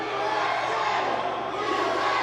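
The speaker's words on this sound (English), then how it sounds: "the crowd chanting USA as the Soviet superstar is getting beat down" Loud, steady wrestling arena crowd chanting "USA" in unison, a dense wall of voices filling the hall during a match against a Soviet wrestler.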